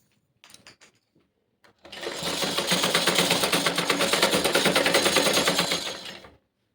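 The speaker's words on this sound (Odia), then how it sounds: "ବବିନ୍ କେମିତି ଭରିବେ ଆପଣମାନଙ୍କୁ ଦେଖେଇଦେଲି।" A sewing machine winds thread onto a bobbin in one steady, fast mechanical whir that lasts about four seconds and is close and fairly loud. A few soft handling clicks come before it starts.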